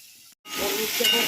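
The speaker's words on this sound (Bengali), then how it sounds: "তেলের মধ্যে জিরে আর শুকনো লঙ্কা তেজপাতা ফোড়ন দিয়েছে" Cumin seeds, dried chilli and bay leaf hit hot oil with a sudden loud sizzle after a brief silence, a steady crackling hiss that continues close and strong.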